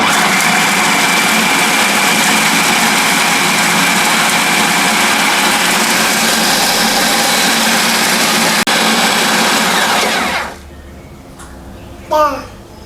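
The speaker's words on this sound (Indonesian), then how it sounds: "Nah ini udah selesai menghaluskan kacang dan kurmanya menggunakan food processor." Food processor grinding peanuts and dates, a loud continuous motor whir with gritty churning that runs steadily for about ten seconds and then cuts off, followed by a brief voice.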